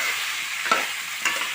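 Drumstick pieces, potato and onions fry in oil in a pan, giving a continuous close sizzle with a couple of soft stirring scrapes.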